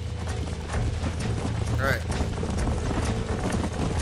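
Horse hooves clip-clop in the Red Dead Redemption video game, a rapid rhythmic clatter of a running herd under busy game sounds, with a voice speaking briefly over it.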